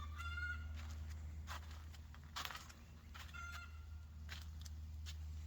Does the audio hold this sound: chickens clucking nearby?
yes